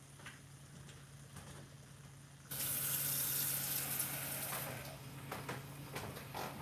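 Tap water running into a bowl at a kitchen while cooking ground meat for burritos, a quiet background hum then a sudden steady splashing stream that softens slightly toward the end.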